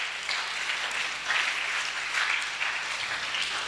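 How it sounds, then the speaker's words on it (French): An audience at a Sunday gathering breaks into steady applause, a dense wash of clapping that swells slightly midway and holds at an even, moderately loud level without speech. "On acclame."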